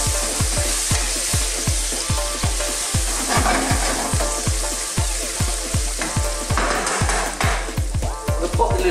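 Sliced onions, chilies and chopped garlic frying over fairly high heat in a pan, a loud steady sizzle with repeated close scraping thuds of stirring at a regular beat.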